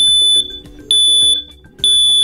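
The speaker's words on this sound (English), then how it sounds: "When an alarm is triggered, you'll hear a loud 85 decibel chirp to alert you." A USI 976LR battery-powered ionization smoke and fire alarm gives loud, piercing 85-decibel beeps in a steady repeating pattern, three pulses close together with no voices.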